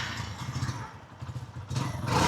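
A freshly serviced motorcycle engine starts and runs, its low, pulsing putter rising into a louder, fuller rumble near the end, with no voices over it.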